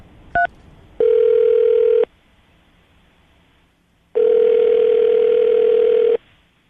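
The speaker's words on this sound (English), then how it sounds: "I'm going to dial the phone number right now" A telephone call being placed: a brief dial beep, then two long steady ringback tones separated by a pause, clean and electronic with no talking.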